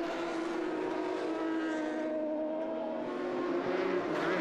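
Race cars with inch-long metal-studded tyres roar around an ice circuit, their engines droning steadily and loud as the field passes close. Among them are a BMW and a Mazda 3.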